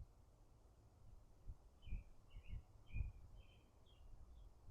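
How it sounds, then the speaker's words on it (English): Faint birds chirp in short scattered bursts over a quiet outdoor hush with soft wind and a few low thumps. "Just the quiet of the wind and the birds chirping."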